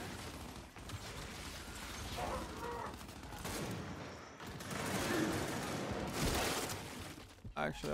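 Gunfire from the video game Gears 5 during a ranked Control match, bursts of rapid shots and booms coming in waves, loud and busy, mixed with other game effects.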